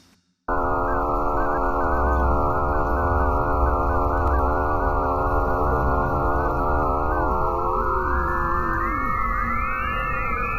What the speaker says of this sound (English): And this is the sound of Mars and its moons.